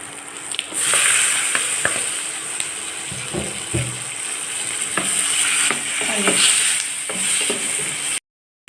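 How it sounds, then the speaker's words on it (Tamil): Onions and tomatoes sauté in a pan for a Chettinad-style okra dish, a continuous close sizzle with scattered scraping stirs and utensil knocks. "வெங்காயம் வதங்கிடுச்சு இப்போ தக்காளி போட்டுக்கலாம்"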